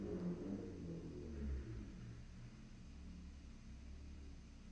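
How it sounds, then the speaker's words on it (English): A car driving outside without a muffler produces a low, continuous exhaust rumble that swells slightly and then holds steady, heard at a moderate distance with no other sounds. "I'll just drive my car around without a muffler and torture the local."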